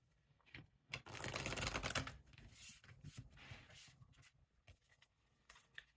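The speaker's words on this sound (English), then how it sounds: "Let's give that another shuffle." A deck of cards is riffled and shuffled up close, a quick crisp flutter followed by softer scattered taps and shuffling.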